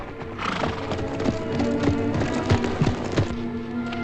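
Horses neighing and whinnying among steady clip-clopping hooves in a Western ranch pasture, loose horses running, with the hoofbeats fairly close and continuous and several loud whinnies rising over them.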